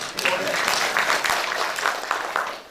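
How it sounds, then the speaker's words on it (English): Audience clapping at a university event, a steady burst of applause lasting a few seconds with some voices mixed in. "Okay, give him another clap too."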